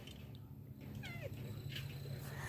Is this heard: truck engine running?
no